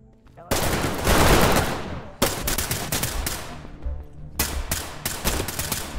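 Shotgun blasts firing buckshot in the tactical shooter Ready or Not boom loudly and close, three separate bursts with echoing tails, alone with no talking.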